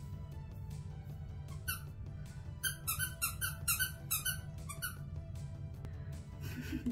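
A squeaky pet toy is squeezed in a run of quick, sharp, high squeaks, several clustered bursts close up over a quiet indoor background.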